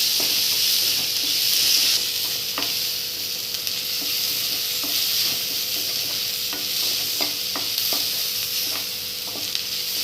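Capsicum pieces and chicken manchurian frying on high flame: a loud, steady sizzle and hiss with occasional light scrapes of a stirring spoon against the pan, and no talking.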